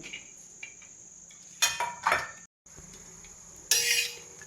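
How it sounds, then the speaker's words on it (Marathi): Green chillies roasting in a little oil on a griddle, with a steady faint hiss and sizzle under several bursts of turning and scraping, close and fairly quiet, no voices. "आता ना ही मिरची तव्यावरती मी भाजून घेणार आहे"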